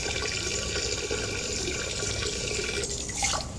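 Water runs and splashes steadily in Duke Nukem Forever, a dense continuous rush that holds close and loud throughout, with a brief surge near the end.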